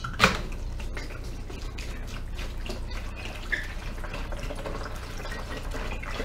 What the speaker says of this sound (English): fill up our fermenter to the number 1 or 4 quart line